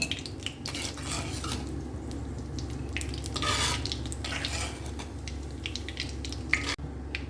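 Cashew nuts fried in oil are scooped from a pan with a metal spoon, giving clinks and scrapes over a gentle sizzle, close and steady without talk.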